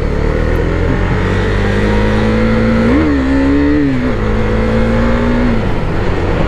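A 2021 Husqvarna Vitpilen 401 motorcycle engine drones loudly and close, its pitch climbing as the revs rise high partway through, then holding before easing slightly.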